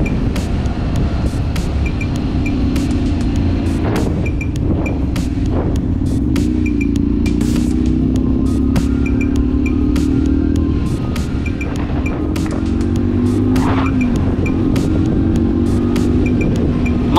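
Steady engine drone of a Honda Varadero 125 motorcycle riding on the road, pitch rising and falling with gear changes, loud and close with rushing wind.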